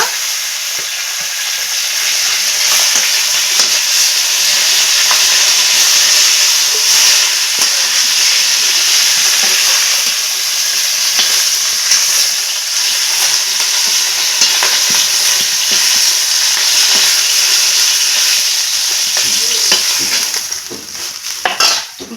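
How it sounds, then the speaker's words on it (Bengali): Fresh pond fish frying in hot oil in a wok, a loud, dense, unbroken sizzle and hiss with faint crackles, close up and steady throughout, easing slightly at the end. "বাকি মাছগুলো এইভাবেই ভেজে নেব"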